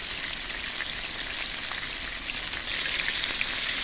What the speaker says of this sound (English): I've got to flip them potato wedges now.